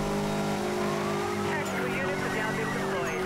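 A Koenigsegg Agera in NFS Most Wanted 2012 drifts with a steady loud engine drone, rising tire squeal sweeping through the middle, and someone talking over it.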